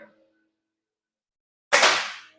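A single sharp gunshot fired at a resort shooting activity, a loud broadband crack after near silence with a short decaying tail; faint voices are heard just before it.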